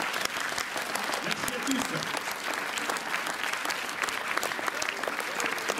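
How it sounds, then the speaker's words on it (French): An audience gives a final round of applause to guests after a screening event, a steady, dense clapping that stays loud throughout while a voice speaks briefly over it. "on les applaudit une dernière fois"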